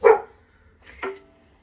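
A dog gives two separate barks about a second apart, the first loud and sharp, the second a shorter rising yip, close by in an otherwise quiet room.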